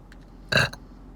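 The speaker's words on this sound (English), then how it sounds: "your burps are never that powerful" A single loud, deep burp erupts inside a car, a short broad blast followed by a small trailing gurgle, with quiet cabin background before and after.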